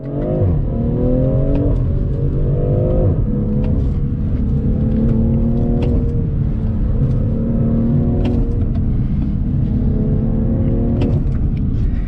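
A BMW M340i with 382 horsepower launches with traction control off and accelerates hard, its engine climbing through rising revs with quick gear shifts, loud and close throughout.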